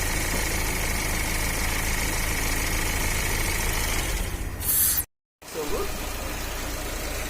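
A Fiat Uno Evo with a Fire engine idles steadily with a slight abnormal noise, a close, continuous low rumble, briefly cutting out before resuming.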